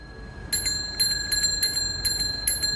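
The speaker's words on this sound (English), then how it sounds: "This is how a bicycle bell sounds here on Earth." A bicycle bell rings in quick bright dings, about six strikes spaced across the clip, close and clear over a soft hiss.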